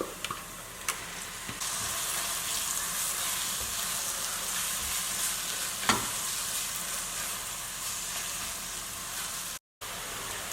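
Onions and garlic frying in oil for a mushroom vegetarian chilli, a dense steady hiss of sizzling with an occasional utensil tap, close and continuous with a brief dropout near the end.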